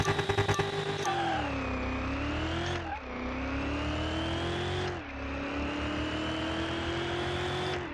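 A drag race car in Car Mechanic Simulator 2021 launches hard off the line on sticky tires, its engine droning loud and steady as revs climb, dip at each gear shift and climb again, with no talking.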